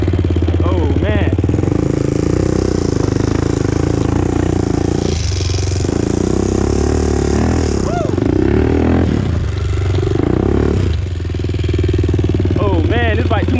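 A 2001 Honda TRX400EX ATV rides across grass, its engine running loud and close with a steady throbbing note, while a rider talks over it now and then.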